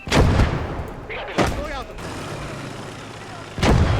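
Mortar and artillery fire in a battle video game: heavy booming blasts at the start, middle and end, with rumbling aftershocks, and a voice speaking between the explosions.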